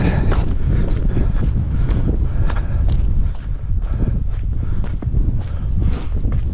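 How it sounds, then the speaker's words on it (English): Strong, steady wind buffeting the microphone on a cold, wet mountain hike, a loud continuous roar and rumble with gusty fluctuations and no talking. "It's cold, windy, wet, but it's nice."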